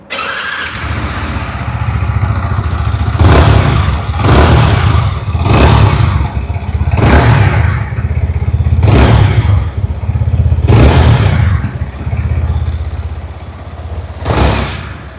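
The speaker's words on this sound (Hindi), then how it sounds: "आइए अभी सुन लेते हैं इस बाइक की एग्जॉस्ट नोट।" A 2026 Yamaha MT-15 V2 motorcycle engine idles with a deep, steady exhaust rumble, blipped into sharp revs about eight times at regular intervals, loud and close.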